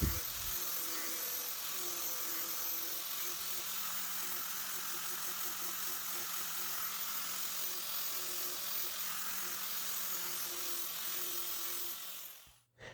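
A grinder works steadily along the second edge of a lawn mower blade, a loud, continuous abrasive whine that holds for about twelve seconds before stopping abruptly.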